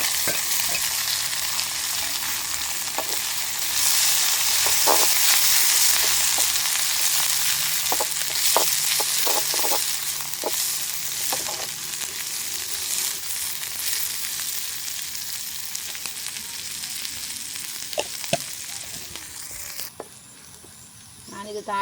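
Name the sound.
mustard seeds, fennel and onion frying in hot oil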